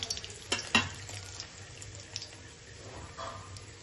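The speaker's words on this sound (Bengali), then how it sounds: "এবার একটু নেড়ে নিই ভালো করে।" Bay leaves, dried chillies and whole garam masala fry in hot oil for mutton kosha, a soft close sizzle broken by a few sharp utensil scrapes and knocks near the start.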